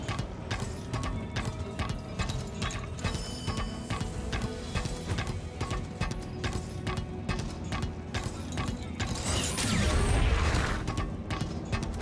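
Rhythmic clip-clop of horse hooves on a hard surface in the video game Lost Ark, steady and continuous, with a swelling whoosh near the end.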